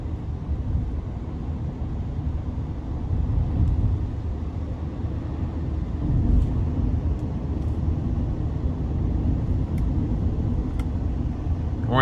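A 2020 GMC Sierra 3500HD Denali dually with a 6.6 diesel cruising on a back road, a steady low engine and road rumble heard from inside the cab, continuous and even with slight swells.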